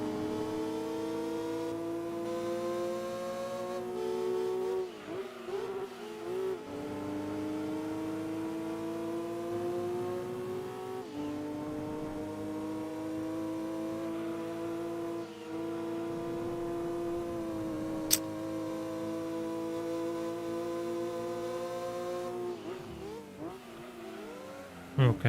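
A Nissan race car engine in Gran Turismo 2 drones and shifts pitch continuously, its harmonic whine rising and dropping through gear changes and revs, moderately loud and sustained.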